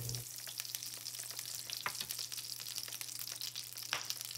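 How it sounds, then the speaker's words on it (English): Olive oil and two tablespoons of butter sizzle steadily in a pan as the base for a lasagna sauce, with a constant crackling fry and scattered sharper pops throughout. "a good amount of olive oil and 2 big tablespoons of butter. Now let's cook this for a few seconds until we get a nice brown butter going."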